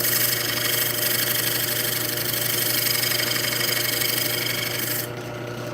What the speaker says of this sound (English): I'll take my smaller spindle gouge and I'm gonna put a small chamfer on the inside of this